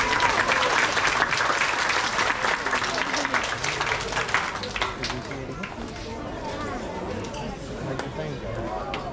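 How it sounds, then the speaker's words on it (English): Audience applause at a crocodile show at Hartleys Crocodile Farm near Cairns, a steady wash of many hands clapping that fades a little toward the end, with voices talking over it. "Give him a clap."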